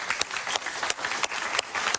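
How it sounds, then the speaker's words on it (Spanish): Applause for a guest on a talk show, a lively run of clapping with distinct sharp claps poking out of the steady crowd noise, heard on its own. "un aplauso para para Pablo Medina"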